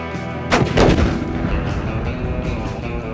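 Loud gunshots from a firearm echo outdoors, with two heavy blasts close together near the start followed by a long rumbling reverberation and no speech.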